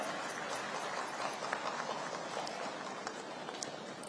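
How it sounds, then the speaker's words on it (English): Applause from the audience at a government plenary session on migrant skills, a dense, even wash of many hands clapping that holds steady, moderately loud and diffuse throughout. "And the audience, please give your energies a big round of applause."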